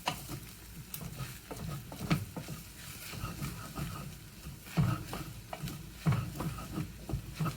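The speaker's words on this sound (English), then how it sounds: "Use your handle for your stirring of your spaghetti." A spatula handle stirs spaghetti in a pan over medium heat, giving soft scraping and stirring sounds with a steady sizzle underneath and a few louder knocks and scrapes spread across the clip.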